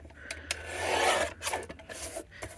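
Paper trimmer blade drawn through cardstock for a handmade valentine card, a close rasping slide that swells over about a second, followed by a few shorter scraping strokes and light taps.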